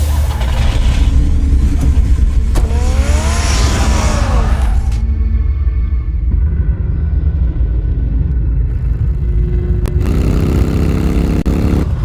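Batman's car engine in the video game Batman: The Telltale Series, a loud steady rumbling engine with rising revving tones and a mechanical whine, sustained throughout with no talking.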